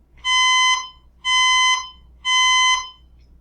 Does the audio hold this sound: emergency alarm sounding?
yes